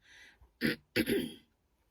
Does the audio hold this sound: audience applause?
no